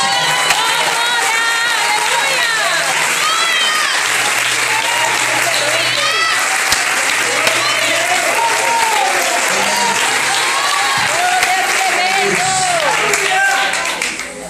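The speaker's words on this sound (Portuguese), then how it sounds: "As palmas dos irmãos." Loud, sustained applause from a large church congregation, with cheers and voices rising over the clapping, continuing steadily before tapering off at the end.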